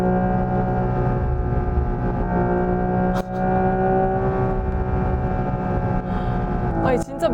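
A Genesis GV60 Magma performance electric car drives with a steady droning drivetrain hum and layered tones at road speed, with a brief dip where a simulated downshift hits, a voice briefly reacting over the sound.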